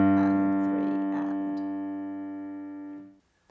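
On a piano, the final bars of the beginner piece Minuet in G end on a held chord. The chord rings clearly and slowly decays for about three seconds before cutting off.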